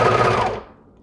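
Sewing machine stitching a stretched knit neckband onto a cami, a short close mechanical whirr of rapid stitching that stops abruptly and fades into quiet.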